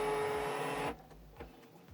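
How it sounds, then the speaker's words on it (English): A Canon Pixma printer scans its print head alignment page with a steady mechanical whir that stops abruptly partway through, followed by quiet soft clicks and a faint thump. "It will prompt the printer to scan the alignment page."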